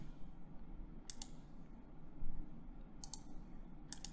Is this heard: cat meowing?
no